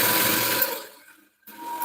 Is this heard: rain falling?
no